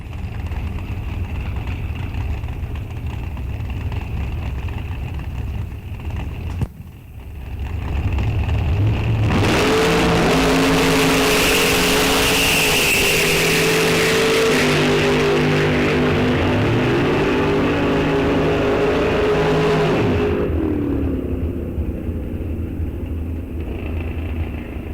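Race cars launch hard at a test-and-tune drag race, engines roaring loud and rising through gears for about ten seconds before fading, with crowd and track ambience around them.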